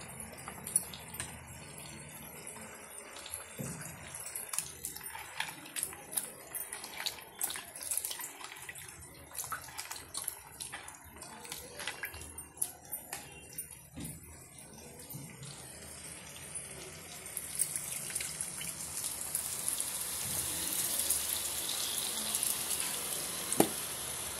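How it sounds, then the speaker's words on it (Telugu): Tamarind extract poured into a simmering korameenu (murrel fish) curry in a home kitchen, giving a steady liquid pour with splashy, bubbly texture that grows denser and hissier toward the end, with no talking. "ఇదిగోండి పులుసు పోసేసామండి"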